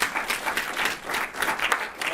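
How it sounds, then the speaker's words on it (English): A crowd at a community tech gathering applauds sponsors and volunteers with steady, dense clapping that swells and dips across the whole stretch, fairly close and full. "how about one more round of applause for our sponsors, for all the volunteers"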